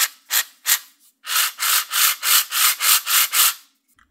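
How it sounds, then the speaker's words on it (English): The gearbox of a model toroidal launcher is turned by hand close up, giving a run of about ten rhythmic rubbing, ratcheting strokes, a couple of separate ones first and then a quick even series, loud against silence. "check if everything works and if the gearbox rotates smoothly"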